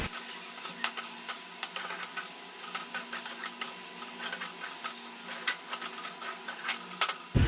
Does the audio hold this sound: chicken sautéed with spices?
yes